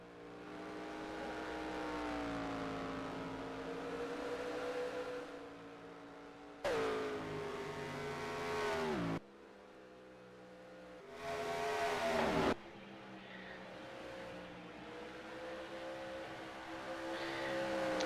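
Race truck engines at Iowa Speedway in a racing video game, whining and revving steadily at high pitch. Abrupt cuts shift between louder and quieter engine tones as trucks pass and the view changes, with nobody speaking.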